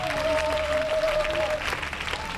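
A church congregation claps and cheers briefly during a worship service, a dense burst of applause with a sustained tone from music or a voice running beneath.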